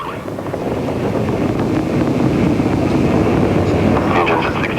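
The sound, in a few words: rocket engines roaring during space launch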